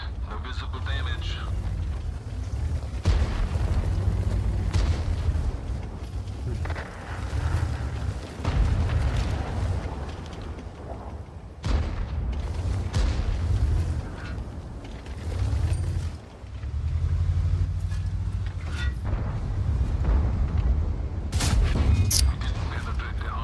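Repeated booming artillery blasts and gunfire from a tank video game, loud low-frequency impacts recurring throughout alongside constant rumbling, with a voice talking over much of it.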